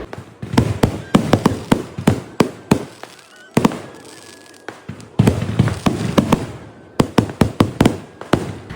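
Rapid volleys of loud fireworks cracking and popping in bursts at a temple festival in Cherukunnu, Kerala, with short pauses between and some distant rumbling booms.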